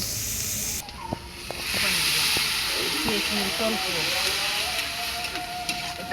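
Onions sizzling in a frying pan for a vermicelli (semai) dish cooked at home, a loud, close, steady hiss filling the clip, with a person talking over it.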